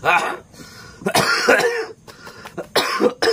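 Several harsh coughs in quick bursts, close and loud, mixed with throat clearing.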